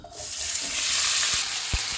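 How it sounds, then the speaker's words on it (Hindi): Minced meat hits hot oil in a pan and sizzles loudly and steadily, with a couple of soft utensil knocks near the end. "ऑयल गर्म हो गया है, कीमा डालेंगे"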